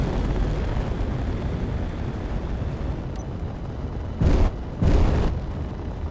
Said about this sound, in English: Firing the thrusters should help in that regard.